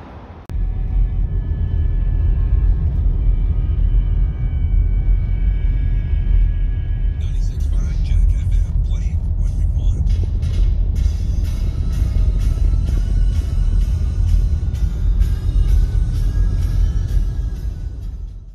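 Car driving along a road near Portland, a continuous low road rumble and engine drone from inside the vehicle, steady and loud, with faint clicking near the middle and no talk.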